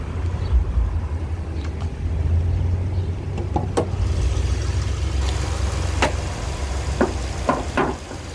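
A car engine runs quietly at idle with a steady low hum, broken by a few faint clicks and knocks nearby.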